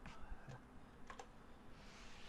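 Fingers tap out a command on a computer keyboard, a few quiet, scattered key clicks with pauses between them, faint and close in a quiet room.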